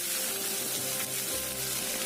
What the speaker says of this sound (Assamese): সেই পিঁয়াজকেইটা দি ভাজি ল'ম